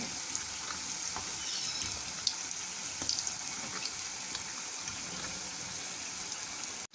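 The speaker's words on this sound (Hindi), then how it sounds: "ये भी रोल एक साइड से फ्राई हो गए, अब मैं इनको साइड चेंज करती हूँ।" Chicken egg rolls fry in hot oil with a continuous soft, bright sizzle at close range, broken by a few faint clicks and taps. The level stays moderate and there is no talking.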